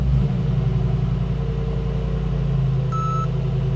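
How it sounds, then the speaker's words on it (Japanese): A Mercedes-AMG G63 engine starts and idles low and steady close by, with a short electronic chime sounding near the end. "ちょっとエンジンかけてみたいと思います"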